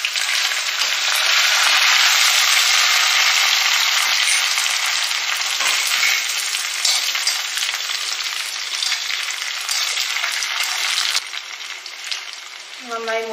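Dried red chillies, ginger and curry leaves fry in a hot pan with a steady, loud sizzle that fills the whole clip, easing slightly toward the end, with no talking.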